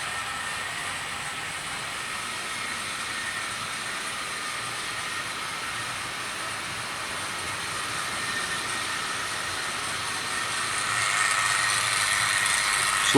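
A Hornby model train runs along its track with a steady close rattle and whir that grows slightly louder near the end, and no voices are heard.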